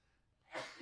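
A single sneeze from a person at a microphone on a sports-talk broadcast, a short sharp burst after a quiet intake of breath.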